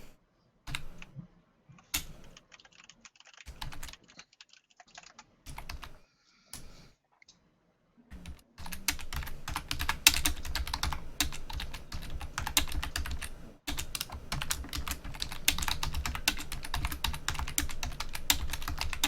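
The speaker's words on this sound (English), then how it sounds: "Loud typing is loud." Someone types loudly on a computer keyboard. Sparse, quiet key clicks come first, then rapid, continuous clattering keystrokes that are close and prominent.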